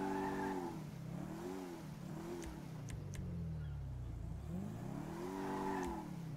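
Game car engine in GTA V, its sound swapped through a mod menu, revving up and down in repeated rising and falling sweeps, loud and steady with a few brief sharp clicks between revs.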